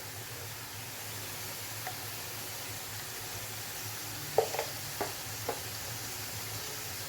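Chickpea curry masala sautés quietly in oil, a faint steady sizzle with a handful of light spoon taps and scrapes from stirring near the middle.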